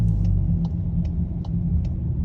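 Engine rumble from a 2022 VW GTI with the 7-speed DSG gearbox as the car speeds up to turn around: a steady low drone with faint ticking above, no voices.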